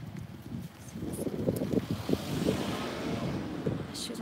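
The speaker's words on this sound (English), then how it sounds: "Attends, yeah, it's super windy." Strong countryside wind buffets the microphone in loud, rumbling gusts that swell and ease over a few seconds, with faint higher hiss above.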